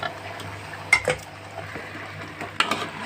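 Tomato and five vegetables (potato, brinjal, chayote, radish, carrot) stirred in a cooking pot for coconut kara kuzhambu, giving a few close utensil scrapes and clinks over a low steady hiss.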